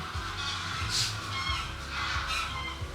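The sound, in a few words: geese flying over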